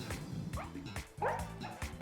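Short yipping, whimpering dog-like cries from the Pokémon Fidough in Pokémon Violet, several quick bursts over game music.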